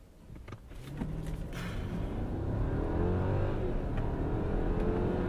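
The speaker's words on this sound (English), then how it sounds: "So let's mash the throttle. We're in sport mode right now." A 2015 Mercedes S550 4MATIC in sport mode accelerates hard from a standstill, its engine note swelling into a rising, steadily building roar heard from inside the cabin.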